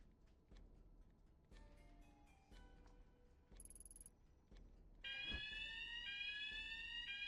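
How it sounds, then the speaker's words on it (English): Electronic alarm in the video game Tokyo: Dark Remembrance rings out with sustained high, steady tones, preceded by soft ticking and clicks; it grows louder and fuller halfway through, with a brief thump, and no one talks. "We set off the alarm and then..."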